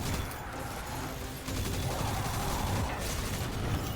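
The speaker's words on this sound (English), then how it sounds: "Our hand cannon exploded." A hand cannon explodes in the video game Destiny 2, a burst of rapid gunfire-like blasts with a sharper surge partway through, heard alone.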